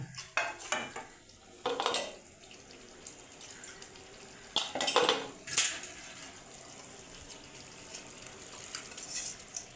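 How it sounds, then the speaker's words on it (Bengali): Half-cooked chicken pieces are stirred in a pan for chicken korma, with a spoon clanking and scraping against the metal in scattered bursts over a soft background of cooking noise. "সেগুলো আমি আস্তে আস্তে এর মধ্যে দিয়ে পারি দিয়ে হালকা করে নেড়ে সামান্য জল দিয়ে দেব"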